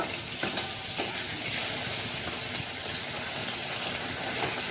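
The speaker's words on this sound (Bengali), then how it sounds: "মাছটা আমার ভাজা হয়ে যাচ্ছে।" Bata fish frying in a pan, a steady hissing sizzle of oil with faint stirring scrapes, continuous and fairly close with no talk.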